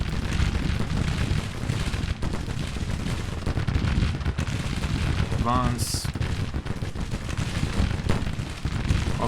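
Civil War artillery cannons firing in Grand Tactician, a steady rumble of distant booms and crackling gunfire under battle noise, with a brief shouted command partway through.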